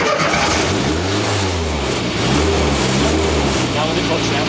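A stock car engine starts and revs in short gentle bursts, the low rumble swelling and easing a few times, close and loud, with people talking over it.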